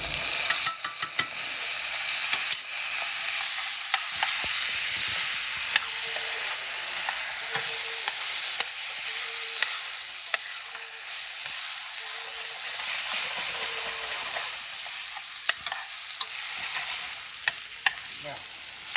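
Minced garlic sautéing in a pan with browning peppers and onions, a steady close bright sizzle and hiss running throughout, broken by frequent clinks and scrapes of stirring, with a voice speaking faintly now and then.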